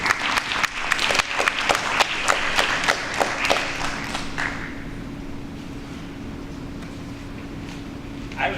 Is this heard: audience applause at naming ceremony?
yes